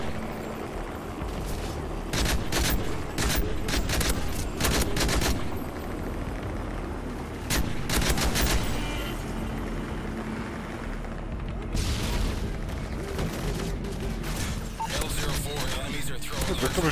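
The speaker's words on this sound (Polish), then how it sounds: "Kurde, ktoś strzela." Gunfire in Call of Duty Modern Warfare 3 special ops missions: loud, dense bursts of shots and booms over constant game noise, close and sustained throughout.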